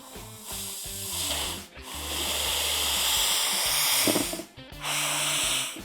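A foot-pedal soft toy stuffing machine at a plush toy factory hisses in long, steady bursts of air, broken by brief pauses, with faint low mechanical rumble beneath.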